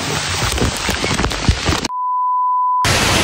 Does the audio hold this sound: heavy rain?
yes